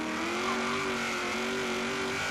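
A muscle car engine in a racing video game holds a loud, steady droning note with slight pitch shifts, sustained throughout without any talking.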